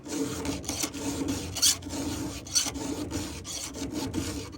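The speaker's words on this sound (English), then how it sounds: "This is me square filing here." A hand file is pushed over a square-ground chainsaw chain while bucking hardwood, giving a close, steady rasping scrape with a few sharper strokes standing out.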